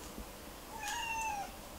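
A cat gives one drawn-out, rising-then-falling meow, close and clear against a quiet room.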